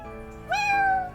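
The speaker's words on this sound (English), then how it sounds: "Oh, she has a black cat." A black cat in the video game Professor Layton vs. Phoenix Wright gives a single clear, rising meow, close and alone over a quiet background hum.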